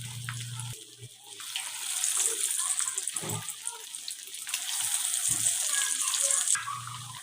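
Pieces of fish dropped one by one into hot cooking oil, giving a loud, steady frying hiss that surges and fades, with a few low thumps as pieces go in.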